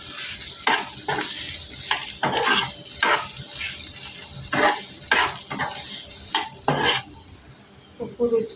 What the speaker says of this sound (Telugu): బీరకాయ ముక్కలు వేసుకోవాలి. ఒకసారి కలుపుకోవాలి.